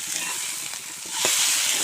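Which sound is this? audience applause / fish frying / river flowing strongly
fish frying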